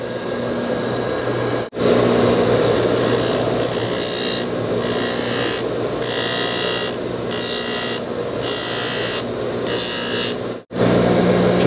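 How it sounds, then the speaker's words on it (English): Grinding a metal track on a camper so a new nylon roller will fit: a steady, loud power-tool whir with rhythmic surging as the grinder is pressed and eased, running nearly continuously with two brief stops. "We're gonna have to grind that."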